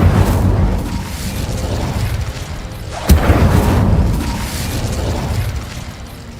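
Incendio fire spell cast in Hogwarts Legacy: loud rumbling fiery blasts and booming bursts with a sharp crack midway, surging and rolling continuously without speech.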